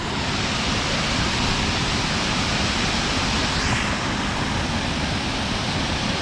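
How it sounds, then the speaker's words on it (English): A decent-sized waterfall beside a creek trail pours out a steady, loud broadband roar that holds unchanged for the whole stretch, with no voices over it. "this is a decent sized waterfall."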